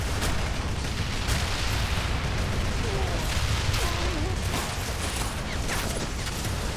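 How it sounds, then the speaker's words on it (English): A dreadnought in a Warhammer 40k mod battle firing its twin cannon amid a dense, continuous barrage of booming gunfire and explosions across a trench-line fight. "Slowly walking in, firing its twin cannon."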